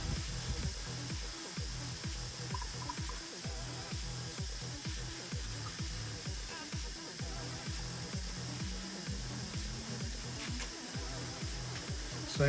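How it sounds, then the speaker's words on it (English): Scotch-Brite pad rubbed hard over an 18-inch wheel during sanding prep, a quiet, steady run of rhythmic back-and-forth scrubbing strokes close by, with no talk. "This is Scotch Brite. Giving it a really good rub so there's no shiny surface left."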